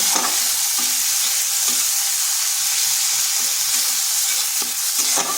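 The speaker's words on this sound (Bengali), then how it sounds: "দিয়ে দিচ্ছি আদা আর কাঁচা লঙ্কা পেস্ট।" Ginger and green chilli paste frying in hot oil, a loud, steady, close sizzle that runs without a break, with a few soft stirring scrapes now and then.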